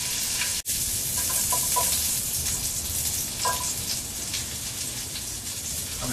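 Garlic sizzles as it fries in a pan for a pork stir fry, a steady crackling hiss with small pops, heard up close and alone apart from a brief clatter near the start.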